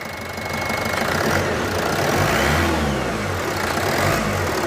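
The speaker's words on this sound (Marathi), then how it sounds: "सर थोडी रेस करा" Close, loud 2019 Toyota Etios diesel engine revs up and holds a rising, rumbling roar, with no talking over it.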